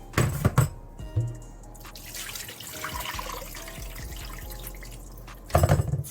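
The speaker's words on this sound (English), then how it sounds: "You wash, then you pour the water off." Water from washing oxtail with vinegar is poured off into a sink, a steady trickling splash running for several seconds between louder clatters of handling at the start and end.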